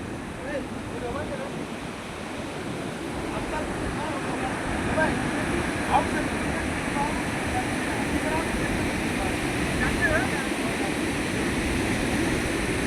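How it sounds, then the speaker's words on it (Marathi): The Godavari River, swollen and flooding after heavy rain, rushes past in a steady, broad roar that holds an even level throughout, with a slight swell midway and wind buffeting the microphone. "पाणी कसे वाहते बघा मित्रांनो हे पाणी बघा कसं दिसते कसे वागते"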